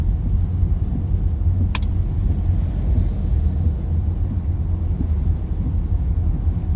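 Steady, loud rumble from inside a car crawling through slow traffic on the A2 near Bexley Heath, a continuous low road drone with one brief sharp click and no talking.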